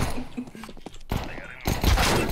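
Gunfire in Counter-Strike 2, with bursts of shots and impacts packed into a couple of seconds, loud and close, mixed with game sounds and a voice talking.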